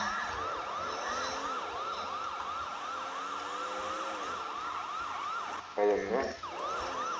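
A police siren wails continuously in a video game, its rising and falling tone looping steadily and fairly loud, with a brief burst of a voice near the end.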